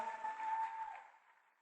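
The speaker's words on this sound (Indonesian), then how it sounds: "Tepuk tangan kepada Crown Ambassador." Applause from an audience at a business seminar, greeting the Crown Ambassadors, as a soft broadband clatter that fades away over under two seconds.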